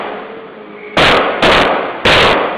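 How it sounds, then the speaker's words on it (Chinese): Consecutive police gunshots on a street, picked up by a surveillance camera: three loud, sharp, broadband blasts about half a second apart, each ringing briefly, over a steady hiss of traffic and street noise. "监视器清楚录到连续的枪声"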